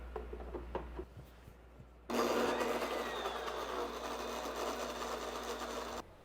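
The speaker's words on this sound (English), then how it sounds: "That needs a lot more blending." A blender whirs steadily for about four seconds while blending a fruit vinaigrette, starting abruptly after a quieter moment of faint handling noise and cutting off sharply at the end.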